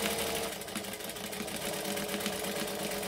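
Sewing machine stitching fabric in a steady, rapid mechanical whir that runs continuously at close range, with no voices.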